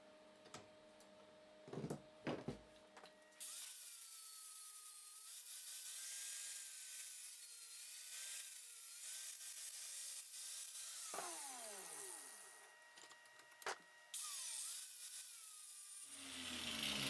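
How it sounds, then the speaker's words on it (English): An angle grinder cleans up excess weld on home-built steel chain adjustment blocks for a Honda NC750X swing arm, a steady loud whine running for about thirteen seconds, with its pitch shifting and briefly dipping, after a few short bursts of clattering at the start. "it's off to the grinder to clean it all up"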